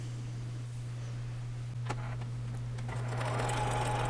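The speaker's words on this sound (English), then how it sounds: "all you're basically gonna do is just sew without any thread right on top of all of the lines of the different pieces" A sewing machine runs without thread, stitching along quilt pattern lines for a stained glass cross appliqué template, giving a steady, close mechanical hum with faint ticking that grows slightly busier toward the end.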